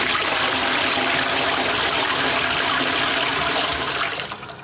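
A toilet flushes with a loud, steady rush of water that holds for about four seconds and then begins to fade.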